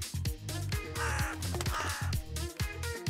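A crow caws in a steady series of harsh, rasping calls, loud and close, repeating in a rough rhythm with no talking.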